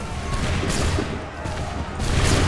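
A ragged musket volley crackles from a line of soldiers in Assassin's Creed 3, with several overlapping shots bursting loudly in quick succession beneath a distant voice.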